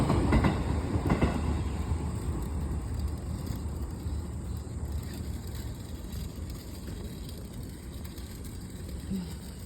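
A train rolls past on the rails in a steady, continuous rumble with faint clatter throughout, moderately distant. Other outdoor background noise sits under it.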